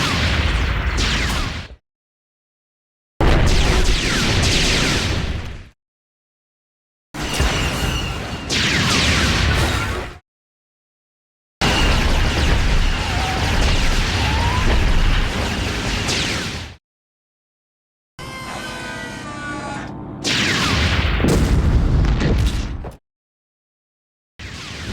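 Heavy cannon fire from a Star Wars AT-TE walker, heard as several separate bursts of loud booming blasts broken by short silences, with a rapid string of sharp pops in the later burst.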